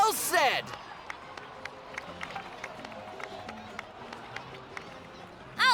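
A Genshin Impact crowd applauds with a steady patter of many hands clapping at moderate distance, framed by brief louder bursts of sound at the start and end.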